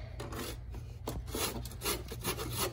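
A brush sweeps sand back across a wooden stall floor in short scraping strokes, close and fairly quiet, several rubbing passes in quick succession with no talking.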